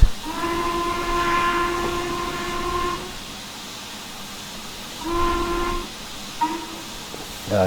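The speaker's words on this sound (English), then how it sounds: "Just get a short and long whistle." Steam locomotive whistle in Train Simulator Classic on the Stainmore, Shap and Eden Valley route, sounding one long blast of nearly three seconds, then after a quiet gap a short toot and a briefer one, loud over a hissing steam background.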